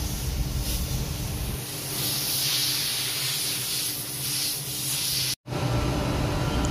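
Compressed air blasts through a diesel generator fuel filter, a loud, close hiss that rises and falls in strength, then cuts out briefly before resuming.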